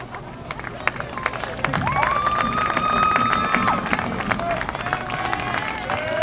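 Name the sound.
crowd applause at a lacrosse game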